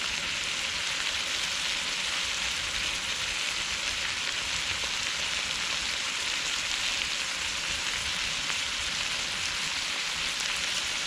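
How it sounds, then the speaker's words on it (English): Steady, dense sizzling and crackling of chicken and onions frying in a pan on a Trangia 27 camping stove, continuous and even throughout with no talking. "It's always nice when you get a sizzle on."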